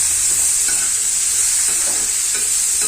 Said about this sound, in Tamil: அதுக்கப்புறம் 2 தக்காளி போட்டு நல்லா கிளறி விட்டுக்கோங்க